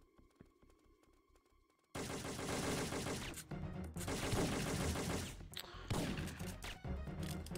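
Sustained rapid gunfire against enemies in Syphon Filter 3, bursting in loud and dense after a quieter opening and continuing in long volleys with brief breaks.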